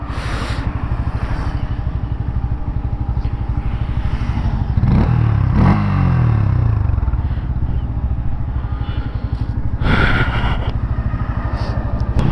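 A motorcycle ridden slowly runs with a steady low engine thrum close by, with a couple of brief swells as the throttle opens and a clattering bump around the middle.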